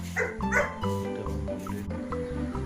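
A German shepherd barks and yips eagerly at feeding time, a rapid series of close, loud woofs mixed with whining whimpers, no voices heard.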